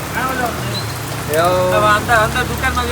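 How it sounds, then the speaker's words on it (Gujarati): Rain falling steadily near a hotel, a constant broadband patter that runs throughout, with voices speaking over it. "વરસાદ દેવા માંડ્યો"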